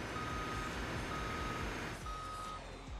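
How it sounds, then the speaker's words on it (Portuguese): A truck's reversing alarm beeps steadily in BeamNG.drive, a run of evenly spaced tones over a loud, constant engine rumble, with a short pause before the beeps resume. "Agora foi na ré, ó."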